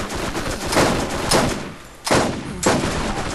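Gunfire from the video game Borderlands crackles in loud, dense bursts, a rapid stream of shots broken by brief pauses, with no talking.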